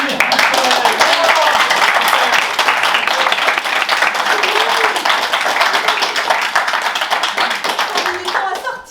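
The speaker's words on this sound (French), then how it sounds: "On peut tous applaudir." Audience applause at a group session on overcoming shyness, a loud sustained burst of close hand clapping from a small crowd, with voices mixed in, that tapers off at the end.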